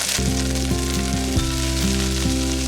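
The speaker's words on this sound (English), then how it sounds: "Now I'm gonna add in some minced garlic, and we're just gonna let that saute for just like 30 seconds." Minced garlic and flour sauté in a hot pan, giving a loud, continuous close sizzle that stays steady and unbroken throughout with no talking.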